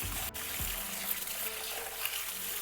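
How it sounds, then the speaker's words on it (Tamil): Rice for mutton donne biryani is washed in water, with a continuous close rush of running water, a faint knock and a few soft splashes. "இந்த அரிசி நல்லா வாஷ் பண்ணி ஊற வைக்கணும்."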